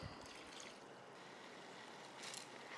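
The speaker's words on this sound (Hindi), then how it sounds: "इस तरह से रनिंग वाटर में धो लीजिए।" Running water streams steadily over pasta in a strainer, a constant close rush with a brief louder splash near the end.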